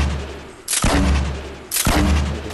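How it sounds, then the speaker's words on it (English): Two loud sniper rifle shots in Fortnite, about a second apart, each a sharp broadband crack with a booming tail that rings out, no talk over them. "Sniped him."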